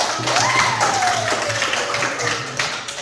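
A classroom of students claps together, a steady patter of light hand claps at moderate distance, with a voice and a sliding tone heard over it.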